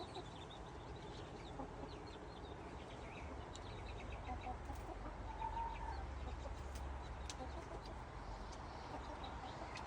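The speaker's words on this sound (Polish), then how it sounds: "Kogut." Chickens cluck faintly and continuously in a noisy farmyard, with a rooster among them and a steady low rumble throughout.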